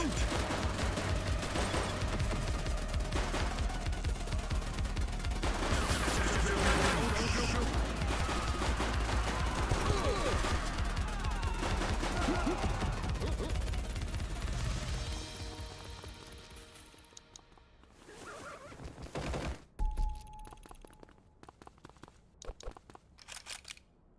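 Gunfire from the police video game The Precinct, dense crackling shots and bursts over roughly fifteen seconds with shouted voices mixed in, then fading into quieter scattered pops and clicks.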